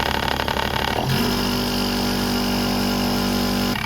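An Actech electric vibrating screed motor runs steadily in reverse, a loud continuous mechanical drone with a brief shift in pitch early on before settling into a constant hum, with no voices.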